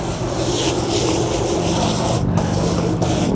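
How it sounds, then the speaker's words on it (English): Water sprays steadily onto a mat as it is rinsed, a constant loud hiss with little change and no talking. "Give it a little bit more spray."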